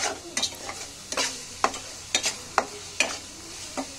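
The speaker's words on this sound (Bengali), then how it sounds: "তো একটু নেড়ে ছেড়ে এই সবজিগুলো দিয়ে রান্না করে নেব 2 মিনিটের ভিতরে।" Vegetables with green chilies and chili powder stirred in a frying pan, a spatula scraping in a string of sharp, irregular clacks over a low, steady sizzle, close and fairly quiet.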